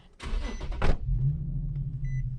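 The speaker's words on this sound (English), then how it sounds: "Y'all hear that Hellcat engine, man?" A Dodge Hellcat engine revs hard in a short loud burst, then settles into a deep steady idle rumble close by, with a brief high beep near the end.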